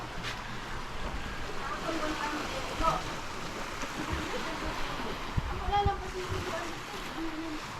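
Seawater at high tide splashes and sloshes steadily against a wall nearby, a continuous wash with occasional louder slaps.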